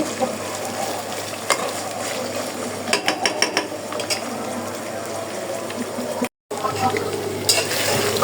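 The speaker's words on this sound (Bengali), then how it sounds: "মুরগিটা ভাজা হয়ে আসছে অনেকটাই।" Pieces of chicken crackle and sizzle steadily in hot oil, with occasional clinks of a utensil against the pan and a brief dropout.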